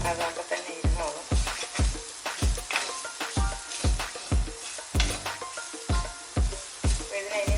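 Grated coconut and young jackfruit roasting in a heavy pan for idichakka theeyal, with a spatula scraping in rapid, rhythmic strokes about twice a second over a constant close sizzle.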